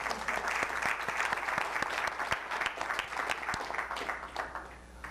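Audience applause after thanks to an executive board at a club meeting, a steady dense round of clapping from a crowd that holds for about five seconds and tapers slightly at the end.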